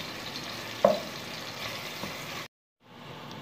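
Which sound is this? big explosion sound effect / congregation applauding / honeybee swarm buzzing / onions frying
onions frying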